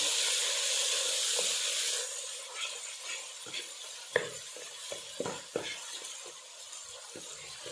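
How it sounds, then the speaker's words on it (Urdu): A spoon stirs spices in hot oil for a sizzling tadka (tempering) for a lobia (black-eyed bean) curry. A steady fry-hiss runs throughout, with irregular scraping clicks of the spoon against the pan, close by. "ہم نے تقریباً 1 منٹ تک اس میں چمچ ہلاتے رہنا ہے"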